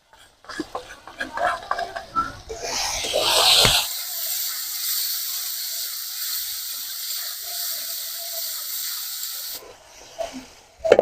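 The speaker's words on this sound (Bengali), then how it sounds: "এবারে দিয়ে দেবো আমি হচ্ছে যে মশলাটা বেটে রেখেছিলাম সেই মশলাটা" Ground spice paste dropped into eggplant frying in a pan, giving a loud, steady, close sizzle that holds for several seconds, preceded by utensil clatter and some voice.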